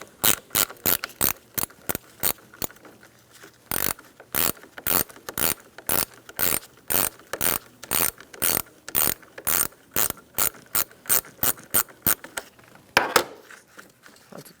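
A ratchet wrench fitted with an 8mm socket loosens a battery terminal on a 2007-2017 Ford Expedition 5.4L V8, giving a long run of sharp, evenly spaced ratcheting clicks in quick bursts, close and clear with no talking.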